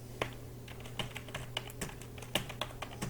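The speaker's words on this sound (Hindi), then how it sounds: "यहाँ पर हम टाइप करेंगे" Fingers typing on a computer keyboard, a sparse, irregular run of crisp key clicks close up, with a faint steady hum underneath.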